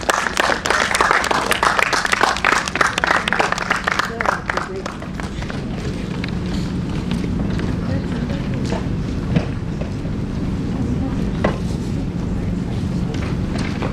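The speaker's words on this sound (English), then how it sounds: "A round of applause for you, please." An audience in a theatre breaks into dense clapping that is strongest at first and fades after a few seconds, leaving murmuring room noise with scattered claps and movement.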